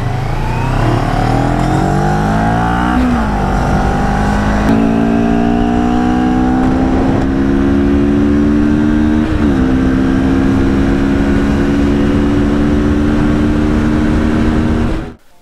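A CFMoto NK 400 twin-cylinder motorcycle engine revs loud and close, climbing in pitch through several steady throttle holds before cutting off abruptly at the end.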